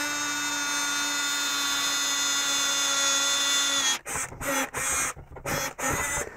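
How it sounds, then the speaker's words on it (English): A steady high-pitched drill whine runs continuously as it bores through angle iron, then breaks into several short bursts as the bit is stopped and restarted, close and loud. "I need to drill a hole through the top point of this angle iron."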